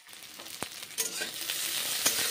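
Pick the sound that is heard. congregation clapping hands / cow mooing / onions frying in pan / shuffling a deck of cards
onions frying in pan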